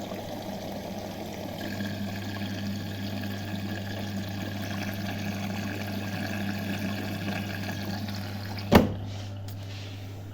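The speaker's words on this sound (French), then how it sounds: "Là elle est en train de faire son dernier rinçage" Washing machine running its final rinse cycle with fabric softener added, a steady low hum and soft water swishing throughout, ending with a short sharp clunk near the end.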